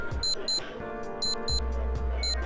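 A wristwatch in the video game Shenmue 3 gives short high double beeps, repeated several times over low game music and background sound.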